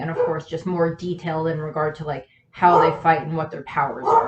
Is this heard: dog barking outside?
yes